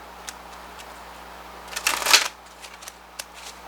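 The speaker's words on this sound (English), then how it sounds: "And just shuffle and see if anything else wants to come out" Deck of tarot cards being shuffled by hand, scattered soft card flicks leading into a dense riffling burst in the middle, then a few trailing taps, close and fairly quiet with no talking.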